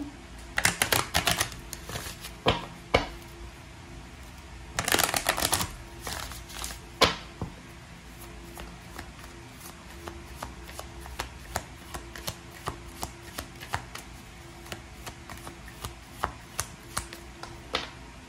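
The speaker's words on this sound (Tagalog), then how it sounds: "balasahin natin" Tarot cards being shuffled by hand, with repeated crisp riffling bursts and quick clicking flutters at a steady tabletop pace, close and fairly quiet.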